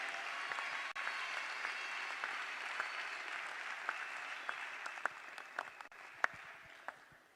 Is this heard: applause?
yes